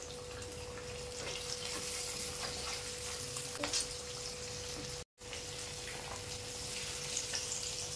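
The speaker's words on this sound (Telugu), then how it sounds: "ఇలా వేసుకున్న తర్వాత మనకు ఒక 10 మినిట్స్ అయితే వేయించుకోవడానికి టైం పడుతుందండి" Fish pieces frying in a pan of oil, a steady, even sizzle that runs almost unbroken throughout, with a brief drop to silence midway.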